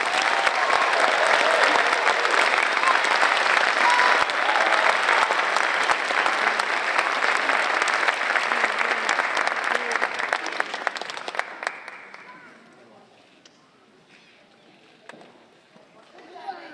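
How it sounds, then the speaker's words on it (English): Loud, dense applause from a graduation audience at an elementary school fifth-grade ceremony, sustained for about twelve seconds before fading to scattered claps and room murmur. "Please give them a well-deserved round of applause."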